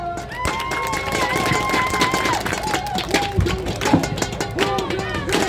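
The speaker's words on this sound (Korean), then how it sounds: "힘찬 박수로 환영해 주십시오." A crowd applauds and cheers loudly at a Korean election campaign rally, the dense clapping mixed with whistles and music-like tones.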